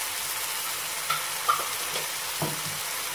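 Ginger garlic paste, about a spoonful, frying in hot oil for a white peas kurma, giving a steady close sizzle with a few faint stirring knocks and scrapes, no talking.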